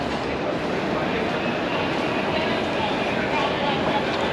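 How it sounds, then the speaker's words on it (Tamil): Steady, dense rumble of a busy train station, Penn Station in New York, with a continuous wash of rail noise and background murmur that holds at one level throughout. "இது வந்து இங்கே பென் ஸ்டேஷன்."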